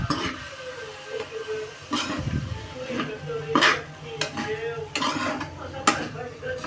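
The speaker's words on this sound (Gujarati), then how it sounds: "હવે મિક્સ કરીશું એને" A spoon stirs kachori filling in a bowl, clinking and scraping against the sides in a loose, irregular rhythm, close and moderately loud.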